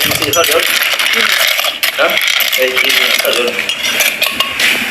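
Cockle meat being stirred and mixed into a Thai pounded cockle salad, with steady clinking and scraping of utensils against a bowl that continues throughout at close range.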